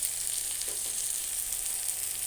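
Chopped tomatoes frying in a pan, a continuous close hissing sizzle at steady loudness with a couple of faint stirring touches, no voices.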